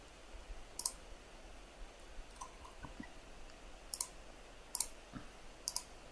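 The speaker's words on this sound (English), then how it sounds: "You guys are probably going to hear me typing a little bit." Sparse keyboard typing in a quiet empty room: a few brief, crisp key clicks and short clusters of taps spaced irregularly over low background hiss, fairly soft and close, with no talking.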